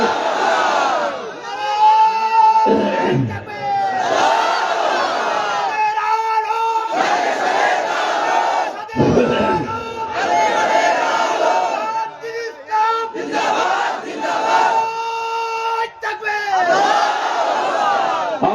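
A large crowd roars and chants in unison at an Islamic waz gathering in Koyra, Bangladesh, responding to a preacher's call with repeated loud, swelling collective shouts that rise and fall across the whole stretch.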